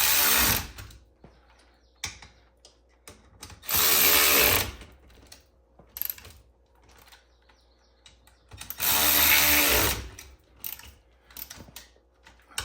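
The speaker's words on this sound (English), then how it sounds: "I'm a firm believer of power tools." A power tool tightens winch mount bolts on a Kawasaki Ridge side-by-side, with two loud whirring bursts of about a second each, close by, separated by quieter metallic clicks and handling noises.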